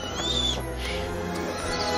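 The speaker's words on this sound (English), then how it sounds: "Bloody bird's a menace." An owl hooting, a short whistling call early on over a low ambient rumble and background score, fairly near and clear before fading.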